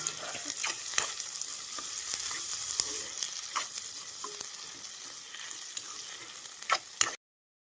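Onions, green chilies and fresh curry leaves frying in a pan, a soft steady sizzle with occasional crackles and stirring taps, fairly quiet and close, cutting off abruptly at the end.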